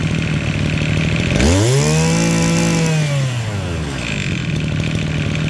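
A used Japanese Mitsubishi grass cutter engine idles with a buzzing chatter, then swells into one loud, rising rev that holds briefly and winds back down to a rough idle, close by, with no talk.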